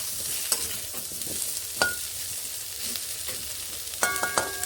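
Pumpkin pieces fry in a pan with a steady close sizzle, broken by a few clinks and scrapes from stirring, with no voices.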